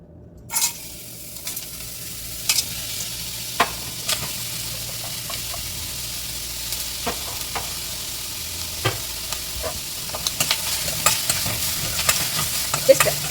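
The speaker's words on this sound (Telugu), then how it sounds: "వీటిని జస్ట్ కొంచెం అట్లా వేయించుకుందాము." Small paneer pieces frying in a pan, a soft sizzle beneath repeated sharp knocks and scrapes of a spatula, the stirring growing busier toward the end.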